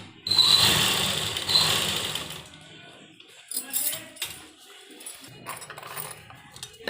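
A sewing machine stitches around a kurta neckline, a loud, dense mechanical whir running steadily for a couple of seconds before cutting off, followed by quieter scattered handling noises and brief bursts.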